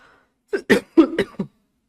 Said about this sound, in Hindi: परेशान हो गए खांसी से।